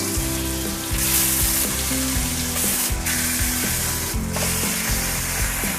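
Spare ribs frying in a hot pan, a steady loud sizzle with occasional stirring scrapes and clacks, no voices.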